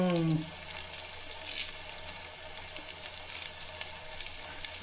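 Raw plantain slices fry in hot oil with a steady, faint sizzle and soft crackle that runs the whole time, with no voices.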